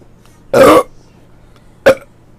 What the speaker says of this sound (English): That was a nasty burp.